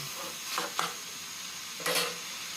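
Bitter gourd and potato curry frying in a pan is stirred in short scraping bursts, two quick strokes followed by a longer one, over a quiet, steady sizzle.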